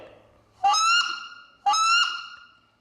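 A game call imitates the squeal of a wood duck: two loud, close, rising squeals about a second apart, each held briefly then fading, with nothing else around them.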